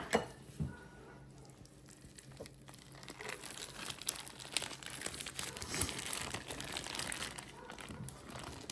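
A plastic package of raw dog food crinkles and tears as it is cut open, a close, continuous rustling that swells and stays busy.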